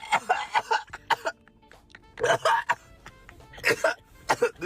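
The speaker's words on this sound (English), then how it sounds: "I heard that cough loud as fuck" Several harsh coughs close by, coming in clusters with short pauses, some rough and choking.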